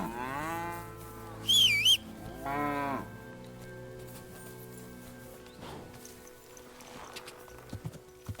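Two fattened cows in a video game, loud close moos in a few drawn-out calls early on, followed by quieter clopping hooves and faint game ambience.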